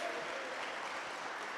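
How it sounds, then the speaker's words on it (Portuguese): A church congregation applauds in a brief burst of dense, even clapping that sounds close and lively. "Fica de pé em nome de Jesus e aplauda o Senhor Jesus."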